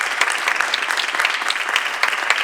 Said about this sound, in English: So we can clap it up for them as well.